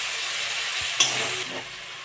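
Ginger and tomato fry in a hot pan with a steady, close broadband sizzle, a brief spatula knock near the middle, and the hiss easing slightly toward the end.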